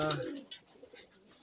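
Pet pigeons coo softly in a brief burst at the start, a short low call close by, then quieter bird sounds and faint rustling.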